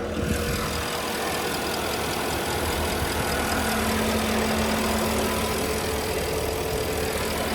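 A 2010 Porsche Panamera 4S engine idles smoothly and steadily nearby, a constant even hum with a faint whine and no obvious ticking, with no voices over it.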